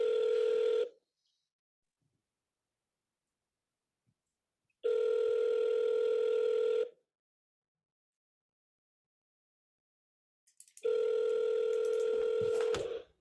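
Three long ringback tones on a phone call, each a steady buzz of about one to two seconds separated by several seconds of silence, with faint crackle at the last ring.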